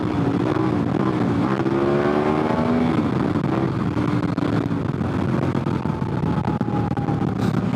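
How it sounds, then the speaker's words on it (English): A dual sport motorcycle on Heidenau K60 Scout tires accelerates hard on a twisty highway for a wheelie, its engine note rising in pitch through the revs under steady wind roar, close and loud. "See if I can pull a wheelie here."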